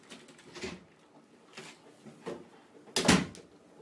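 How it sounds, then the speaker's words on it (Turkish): A door closing in Minecraft during a Survival Games match, heard as a few soft wooden clacks and knocks spread over a few seconds, the last one the loudest, over quiet background. "Neyse kapattım kapıyı."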